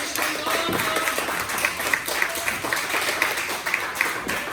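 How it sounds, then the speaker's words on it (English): A wrestling crowd cheers and claps during a match, a dense, sustained wash of applause and crowd noise with scattered louder claps throughout. "The crowd now cheering."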